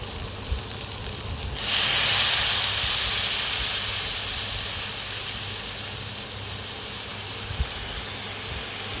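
Shredded cabbage tipped into a hot salted pan for a Marathi kobichi bhaji, giving a sudden loud steamy hiss that swells then slowly settles into a steady sizzle, with faint clinks of a utensil.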